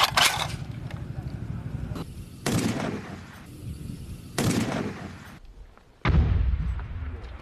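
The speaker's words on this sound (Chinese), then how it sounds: "在车辆停稳的那一刻快速击发" Live-fire rifle shots from a sniper team during a military shooting assessment by the garrison in Macau, with targets out to 1300 metres. Four loud, sharp cracks ring out about two seconds apart, each trailing a short decay.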